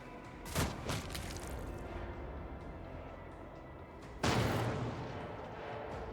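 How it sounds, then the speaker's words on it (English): Explosions and gunfire in the video game Warhammer 40,000: Rogue Trader: a quick volley of sharp bangs near the start, then a heavy booming blast that trails off into a rumbling background. "The fuck was that explosion?"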